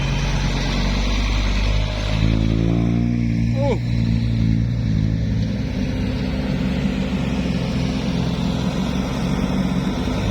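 A tractor engine drones low and steady close by, rising in a rev as it shifts into second gear, with a voice talking over the running motor.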